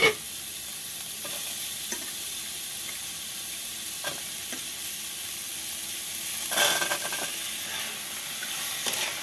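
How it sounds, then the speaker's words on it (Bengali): Steady, loud sizzling of diced potatoes and carrots frying in a hot pan, with a few scraping stirs over the continuous hiss. "ভাজা ভাজা করে নেব।"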